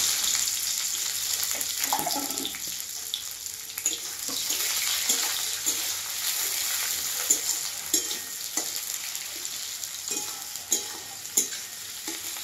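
Onions frying in hot oil with two bay leaves in a home kitchen: a continuous hissing sizzle with occasional stirring clinks and scrapes, moderately close.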